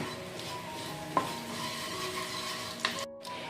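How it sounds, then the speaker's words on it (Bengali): Ground spices, including Kashmiri red chilli powder, stirred into hot oil in a pan for an aloo fulkopi dalna: a soft continuous sizzle with two brief utensil scrapes. "এই মশলা দুটো ভালো করে তেলের সাথে মিলিয়ে নেব একবার।"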